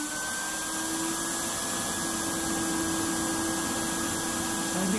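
An electric fan blows air into a coconut husk roaster used to roast pork, a steady loud whirring rush with a faint whine, continuous throughout with no talking.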